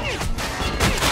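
Two loud, close gunfire bursts ring out in the video game Metro Last Light as shots are aimed at red wheels, with no talking.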